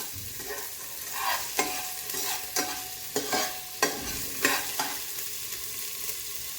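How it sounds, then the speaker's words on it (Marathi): A whole large chopped onion fries in oil while being stirred, a steady close sizzle with regular sharp scrapes of the spoon against the pan every half second or so. "तेलामध्ये मी एक पूर्ण मोठा कांदा टाकते आहे. तो आपल्याला लालसर परतून घ्यायचा आहे."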